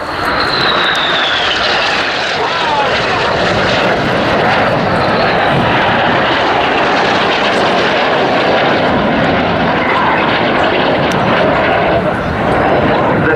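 Red Arrows display jets flying past trailing smoke at the Cosford airshow, a loud continuous broadband roar that holds steady throughout, with faint voices beneath.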